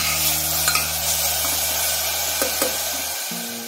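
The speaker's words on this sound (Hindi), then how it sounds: "इसको लाइट ब्राउन होने तक हम भूनेंगे।" Onion with ginger and green chili fries in a pan for lobia masala curry, a constant sizzle under light scraping stir strokes that fades quieter near the end, with no one talking.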